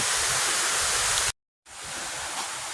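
Waterfall at Taman Eko Rimba Kanching in Rawang, a steady broadband roar of rushing water, loud and continuous, broken by a brief total silence near the middle before the rush resumes.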